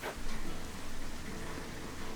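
Heavy rain pours outside in a continuous, dense hiss that stays steady and fairly loud, with no talking over it.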